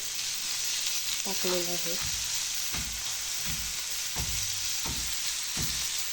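Tomato sautéing in a pan for a village-style thecha, a steady frying hiss with several scraping stirs of a spatula, and a voice speaking briefly near the start.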